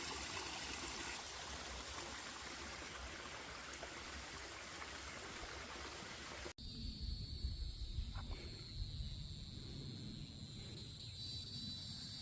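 Ivy Creek, a stream in the Shenandoah mountains, rushes in a steady close wash; after an abrupt cut, fainter water is joined by high, continuous insect or cricket buzzing.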